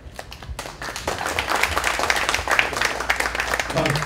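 An audience at a fundraising dinner breaks into applause, a dense patter of clapping that swells and holds for a few seconds.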